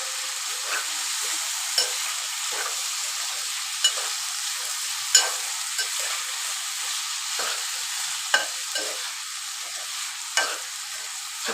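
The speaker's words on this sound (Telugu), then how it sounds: "ఇప్పుడు ఒకసారి మనము క్యాబేజ్ అయితే కలుపుకోవాలి." Cabbage and potato are stirred while frying in a pan, a soft steady sizzle broken by regular scraping clicks of a spatula every second or two, fairly quiet and with no voices.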